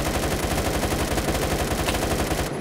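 Rapid automatic gunfire in the Roblox shooter Phantom Forces, a loud continuous burst of evenly spaced shots lasting a couple of seconds before cutting off abruptly.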